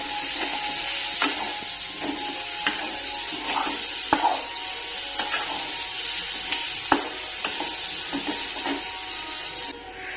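Green chilies frying with vegetables in a kadhai, a steady sizzle and crackle with intermittent scraping and clicking stirring sounds, close, no talking.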